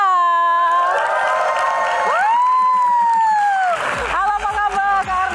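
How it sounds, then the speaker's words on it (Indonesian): Studio audience at an Indonesian comedy Q&A cheering, whooping and applauding loudly as a guest comedian is welcomed, a dense crowd roar with shouts, thinning after about four seconds. "Tepuk tangan dong."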